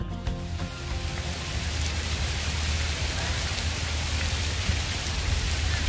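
Rain falls steadily during outdoor bullhead fishing, a dense, even hiss of drops on surfaces that swells slightly after the first second and stays constant, with no voices.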